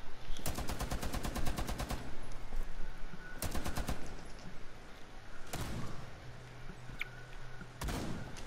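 Rapid automatic gunfire from the video game Rainbow Six Siege, in four separate bursts: two long rattling volleys, then shorter sharp ones, loud and close over a steady game background.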